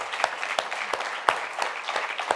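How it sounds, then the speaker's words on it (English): A small audience at a Guru Poornima celebration claps for the musicians, sparse distinct claps spaced fairly evenly, close and crisp rather than a thick roar. "huge round of applause."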